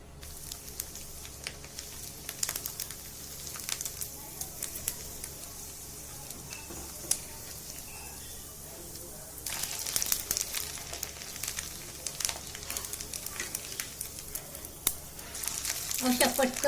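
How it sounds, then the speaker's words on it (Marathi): Rava kurdai, semolina fryums, fry in hot oil, giving a steady close crackling sizzle that swells louder in bursts with occasional stirring, and a voice talks quietly underneath. "अशा पटकन तळल्या जातात आणि जळत पण नाही या कुरड्या"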